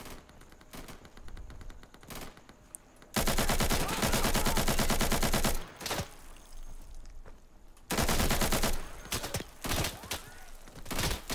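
Automatic gunfire in the Insurgency video game, long dense rapid-fire machine-gun bursts, loud and close, broken by shorter pauses and scattered single shots.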